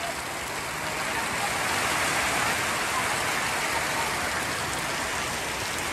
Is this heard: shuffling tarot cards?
no